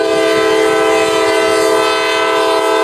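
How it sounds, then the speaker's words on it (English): A loud westbound double-stack freight train rumbles past steadily near New London, Ohio, its engine drone and horn-like tones sustained throughout. "A westbound stack train slowly pulls to the crossovers as it heads for Willard."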